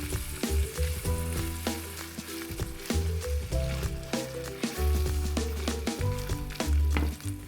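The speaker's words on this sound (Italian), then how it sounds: "Aggiungo al soffritto carne trita e fegatini, alzo la fiamma e li faccio rosolare per almeno 5 minuti" Minced meat and chicken livers frying in a soffritto over a raised flame, a steady close sizzle running throughout beneath prominent tonal background music.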